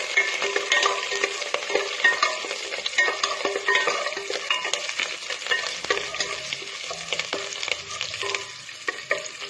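Chicken chukka with green chillies and curry leaves is stirred in a hot pan, with continuous close sizzling broken by repeated rhythmic scrapes and clatters of a spoon against the pan, alone without speech.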